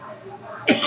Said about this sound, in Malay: Pagi-pagi batuk.